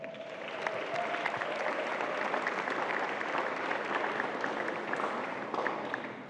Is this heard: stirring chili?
no